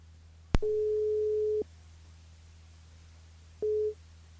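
A telephone line rings out as a French radio call-in show dials a listener: a sharp click, then a long steady ringing tone, a pause, and the start of a second tone.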